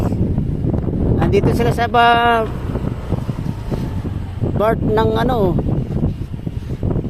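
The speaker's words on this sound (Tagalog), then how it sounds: "Lakas ang hangin." Strong monsoon wind buffets the microphone during a motorbike ride through Mulanay. A constant low, rumbling roar runs underneath as someone talks over it.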